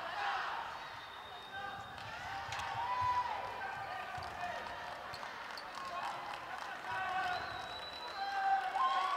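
Spectators applaud and cheer through the stands at a Northern Ireland versus Samoa netball match, a steady, moderately loud wash of clapping and crowd noise under a commentator's voice, with a ball bouncing on court.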